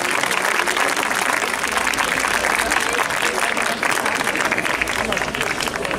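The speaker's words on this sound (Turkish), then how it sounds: "Alkışlarınızla tabii ki" Crowd applause at an outdoor Mudurnu fair concert, thick continuous clapping throughout during a gift presentation, loud and sustained with crowd murmur mixed in.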